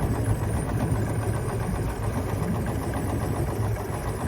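Inboard engine of a 1948 18.5-foot Truscott utility boat running steadily during a sea trial, a constant close mid-low drone with even vibration and no voices.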